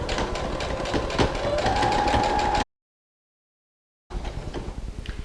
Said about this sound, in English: the goal is to stitch right down that narrow hem, right down the center of the narrow hem